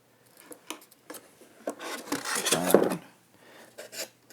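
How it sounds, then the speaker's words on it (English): Cutting a small hole in foam board for a wire on an FT-Viggen model plane build, heard as close, quiet scraping and slicing strokes in short bursts with a longer rasping cut in the middle. "I'm going to just cut a little hole here."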